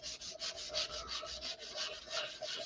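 Hand sanding a full tang knife handle gives a quick, rhythmic scratchy rubbing of strokes about five per second, close and steady without talk.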